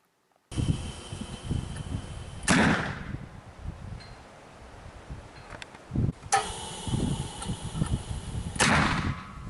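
Two loud, sharp booming blasts several seconds apart ring out over a steady outdoor background hiss, from a Zon propane bird scare gun firing.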